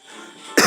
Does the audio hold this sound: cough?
yes